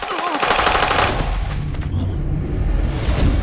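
Automatic gunfire in the video game Arena Breakout, loud rapid bursts of shots layered over one another throughout with some rumbling booms.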